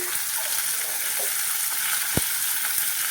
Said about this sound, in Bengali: টমেটোগুলো দিয়ে দিচ্ছি একসাথে ভেজে নেবো